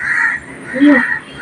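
A couple of loud, close crow caws in the early morning, one after another, with a low voice briefly mixed in.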